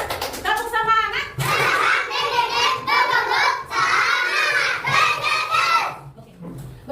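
A group of schoolchildren in an Indonesian classroom shout a rhythmic cheer together, loud chanted voices in bursts over several seconds, with faint clapping mixed in beneath the chanting.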